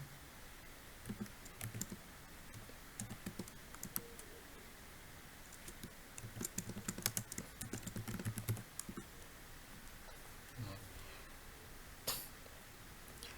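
Someone types on a computer keyboard while coding in Java, heard as soft, close, irregular key clicks arriving in short bursts with pauses between them.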